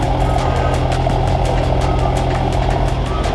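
A satin black Mercedes G63 with a V8 idles up close at a TX2K car event, a loud, deep, steady rumble with a faint ticking pulse running through it and no talk over it.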